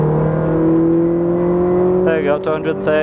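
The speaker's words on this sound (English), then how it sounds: "you just put your foot down a little bit, normally aspirated engine, 3000 RPM, and the speedo just goes absolutely bonkers" A Ferrari 458 Speciale with a naturally aspirated engine accelerates hard on a track, its engine note climbing steadily in pitch as someone speaks briefly over it near the end.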